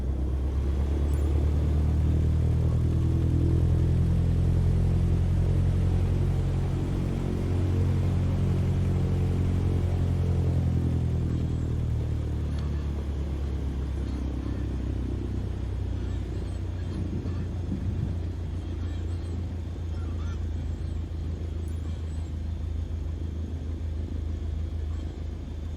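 An airplane engine in MS Flight Simulator 2020 hums in a steady low, rumbling drone while taxiing, loud and continuous for the whole stretch with no voices.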